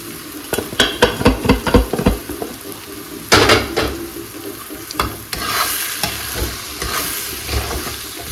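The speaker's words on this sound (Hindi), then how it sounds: "मैं डालती हूँ इसमें सूजी।" Semolina is stirred with peanuts in a pan, and a spoon scrapes and clinks against the metal in quick rhythmic strokes over a steady frying sizzle, close and clear.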